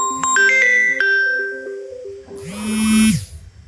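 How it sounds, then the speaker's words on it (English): Phone ringtone playing a clear electronic melody of stepped tones, loud and close, followed by a rising synthetic swoosh-like jingle at the end, with no talk. "Answer that phone."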